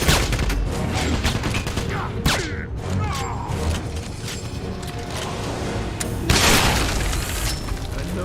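Dense gunfire and booming explosions from the video game Wolfenstein (2009), with sniper shots mixed into a loud, continuous battle din and sharp bursts standing out, all close and busy throughout.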